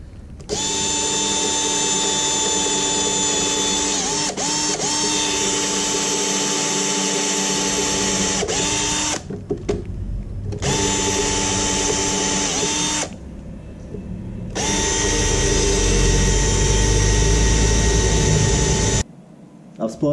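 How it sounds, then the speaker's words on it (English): Power drill driving old recycled screws into a wooden chopping board to fasten spliced anchor-rope handles, a loud whirring motor in long bursts with short pauses and pitch dips as the screws seat. "I'm going to screw that on to give a handle on each end."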